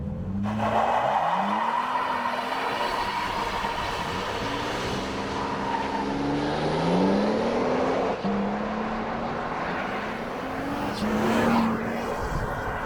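A turbocharged Toyota Tundra TRD pickup engine pulls hard in a 0-60 run, its pitch climbing through rising sweeps with a breathy turbo whoosh, loud and steady with no voices.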